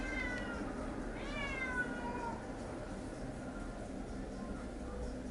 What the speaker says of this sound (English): They have the loudest cat to ever exist.